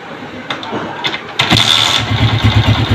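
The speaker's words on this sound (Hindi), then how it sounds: "अभी दोबारा से स्टार्ट करते हैं बाइक को।" A motorcycle with an idling fault that stalls when the throttle is released is kicked or cranked and catches at about the midpoint, settling into a loud, close, throbbing idle after scattered mechanical clicks.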